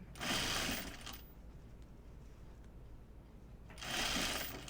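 A sewing machine stitches an apron dress in two short bursts of fast, steady whirring, each about a second long, separated by a quiet pause of nearly three seconds.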